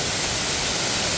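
A waterfall near Kiso-Fukushima in Japan roars as a steady, loud, broadband rush of falling water, continuous and unbroken with no voices.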